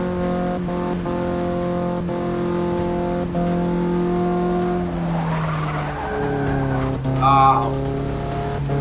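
Race cars in Forza Motorsport 6 rev and drone loudly throughout, steady engine harmonics dipping and shifting as gears change, with a tire squeal near the end and a brief voice exclaiming.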